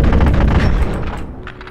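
Pistol fire in the video game Insanity's Requiem: dense, booming shots roll together into a loud continuous rumble that eases slightly toward the end.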